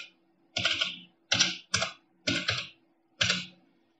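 A password is typed on a computer keyboard as five separate bursts of clattering keystrokes, close and clear, with short pauses between them and no voices.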